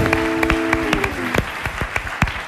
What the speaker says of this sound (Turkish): Alkışlıyoruz Kadir İnanır'ı ve reklamı.